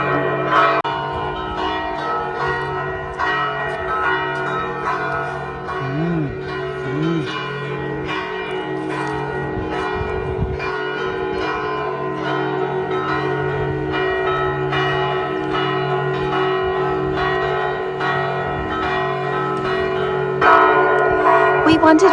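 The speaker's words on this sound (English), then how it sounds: "We wondered why the church bells were ringing constantly here at the Duomo in Cefalu." Church bells of the Duomo in Cefalù, Sicily, ring continuously for over twenty seconds, a dense, steady peal of overlapping tones that stays loud and close throughout without pause.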